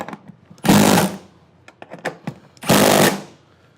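Seat bolts are tightened with a power tool on a Honda S2000 seat, working 12 mm bolts. Two loud, close, buzzing bursts sound about two seconds apart, with small clanks between them.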